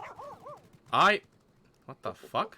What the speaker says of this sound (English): I think somebody summoned a mount that was a dog.